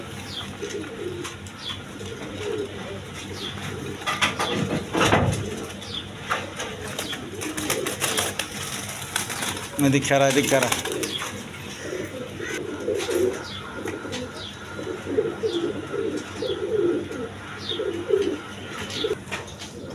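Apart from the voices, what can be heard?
Sirazi Lahori pigeons cooing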